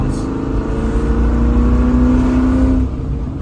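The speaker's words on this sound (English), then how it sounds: "The exhaust sounds" Land Rover Discovery 1 engine and exhaust under way as the driver rolls through the gears, a steady loud drone with a rising tone that drops away near the end, no talking over it.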